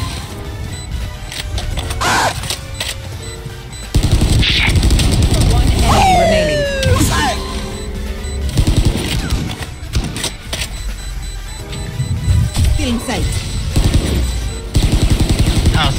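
Rapid gunfire and crashing effects from a mobile shooter game, loud and busy, with bursts of shots layered over music and game sounds while players talk excitedly.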